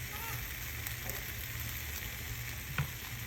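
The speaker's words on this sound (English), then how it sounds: "In a pan on medium heat, add cooking oil. Begin cooking the apples inner side down" Apples cooking inner side down in oil in a pan over medium heat, a steady close sizzle and crackle with a few brief pops and stirring sounds.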